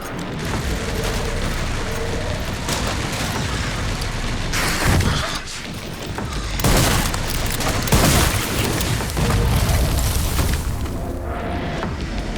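Gunfire and heavy booms roll through a zombie shooter game, dense and continuous for the whole stretch, with louder bursts around the middle and no talking.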